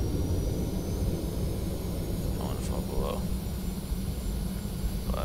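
Jet engines of a TFDI 717 airliner in the FSX flight simulator hum steadily in flight, a broad continuous roar that holds level throughout with no clear throttle swell.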